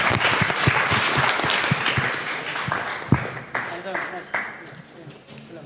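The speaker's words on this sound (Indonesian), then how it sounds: "Boleh minta tepuk tangannya?" Audience applause at an Islamic lecture event held by an electrical engineering student association, a dense burst of clapping from a room of people that tapers off near the end.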